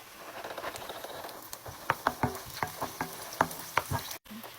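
Garlic fries in a pan, crackling and popping with irregular sharp spits over a low sizzle, close and fairly loud, ending in a sudden brief cutoff.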